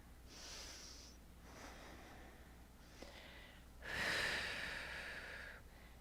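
A person breathing at a regular pace during a Kundalini-inspired yoga shoulder exercise, with soft, airy inhales and exhales in slow cycles and a stronger, louder exhale near the end.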